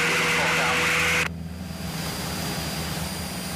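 A Cessna 172 piston engine climbs out after departure from Cambridge, a loud, steady, close drone that cuts off abruptly after about a second, leaving a quieter, even cabin hum.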